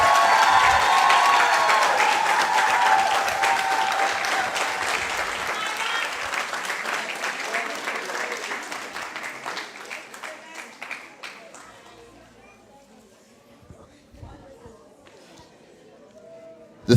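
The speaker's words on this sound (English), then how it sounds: "please give a big round of applause to Miss Maya Ramdeen" A crowd at a Rotaract Club of Grenada and Communal Co-operative Credit Union ceremony applauds loudly, with a few cheers mixed in, then the clapping gradually dies away into quiet room noise.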